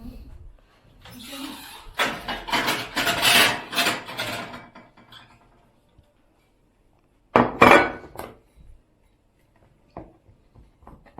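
Knife cutting a homemade pizza baked in a village-style tin stove into triangle slices, raspy scraping strokes in two bursts with quieter scrapes after, as people talk nearby.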